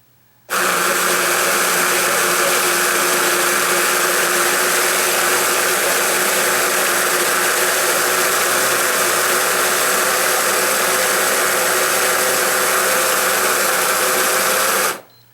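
The motor of a Cuisinart DGB-700BC coffee grinder that won't grind starts abruptly and runs at a loud, steady whirring drone for about fourteen seconds before cutting off, with no beans and no talking.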